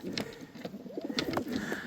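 Young pigeons cooing in a loft, including a large red bird, with soft repeated throaty coos close by alongside a few light chirps and rustles.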